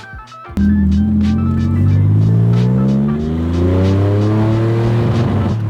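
A Porsche 911 Slantnose engine roars up close and revs steadily through rising gears on a driving lap, a loud continuous drone of acceleration with no talking.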